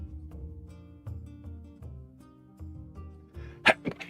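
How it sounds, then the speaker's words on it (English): A sharp sneeze bursts out near the end, followed by a smaller second burst, over quiet background music. "Hold on, I feel a sneeze coming on."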